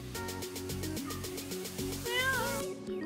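Cats meowing repeatedly in a steady, pulsing series of close, fairly loud calls, with a rising wavering meow near the end and no talking over them.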